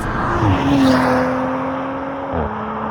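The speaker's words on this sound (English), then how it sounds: "The engine, being a V6, is not going to sound as good as a V8" An Audi RS5's V6 engine hums steadily while driving, its pitch rising briefly and then holding a constant drone before dropping slightly near the end.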